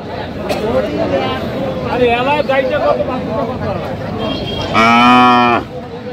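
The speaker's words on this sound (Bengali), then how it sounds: "গাভী বাছুর আমরা দেখছিলাম এখানে।" A cow lets out one loud, drawn-out moo near the end, over a background of murmuring voices and crowd chatter at a cattle market in Aftabganj, Dinajpur, where cows and calves are for sale.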